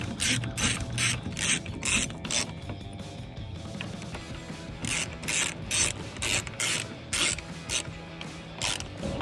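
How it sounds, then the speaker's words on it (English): A ratchet clicks in quick repeated bursts while tightening 5mm Allen bolts on Jeep Wrangler JK door hinges, close and clear, with a short pause midway before the rapid ratcheting resumes. "these are 5mm Allen bolts. I'm going to tighten them"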